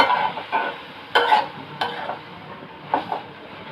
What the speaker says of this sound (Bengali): আমি ঢাকনাটা উঠিয়ে নাড়াচাড়া দিয়ে দিলাম।